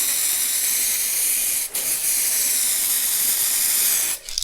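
Steady close hiss of an aerosol spray can laying quick overlapping coats of paint on an automotive part, with one short break midway and another just before the end.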